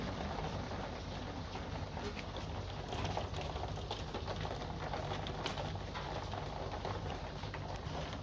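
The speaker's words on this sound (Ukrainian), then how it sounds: "Тільки йде дощ, лупе" Steady rain pattering on a surface, a continuous soft hiss with occasional louder drips, and faint bird cooing in the distance.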